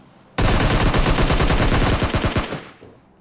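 A sustained burst of rapid automatic gunfire in a battle royale video game rattles loudly for about two seconds, then tapers off into a brief tail.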